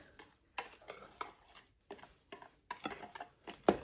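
A whisk taps and rattles against a bowl in short, uneven bursts as dry cookie ingredients with a pinch of salt are mixed, close and fairly quiet, with no other sound around it.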